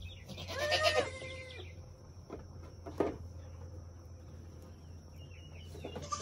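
A young farm goat gives one clear bleat early on, close and fairly loud, followed by quieter scattered sounds over a faint steady background hum.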